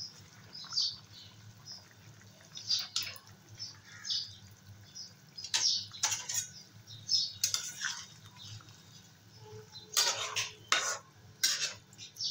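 Fried potatoes go into a simmering curry and get stirred, with spoon clinks and scrapes against the pot coming in irregular bursts over a quiet bubbling background.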